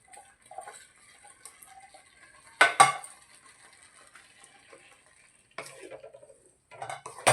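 Boiled radish being stirred into masala in a pan for a spiced radish stir-fry: soft scraping and a few sharp clinks of a spoon against the pan, quiet and intermittent with faint sizzling between.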